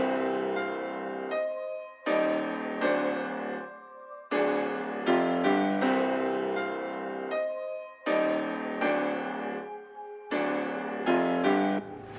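Dark piano beat built in FL Studio, with a wide stereo pad layer under the piano chords; the loop plays in repeating bars of about two seconds, with brief dropouts between phrases and no voices.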